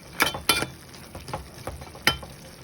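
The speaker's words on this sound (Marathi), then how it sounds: "धना पावडर, लाल मिरची पावडर टाकून हलवून घ्यायचे आहे" Coriander and red chili powder being stirred into vegetables cooking in a pan for a Marathi val bean curry: a few sharp scrapes of a spoon against the pan over a faint sizzle, fairly close.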